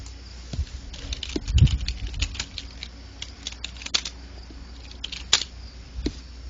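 Keys clatter on a computer keyboard during an online gaming session, quick irregular bursts of clicks and taps with short pauses, close and fairly crisp, with no talking.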